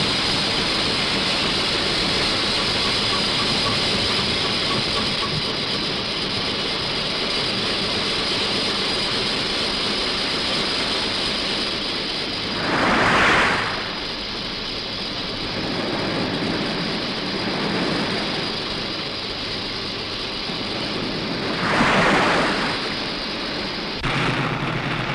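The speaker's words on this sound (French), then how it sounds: "Réglez les moteurs à 290 tours." Engines of the submarine Casabianca run at 290 rpm, a loud, steady mechanical roar with two brief swelling hisses partway through.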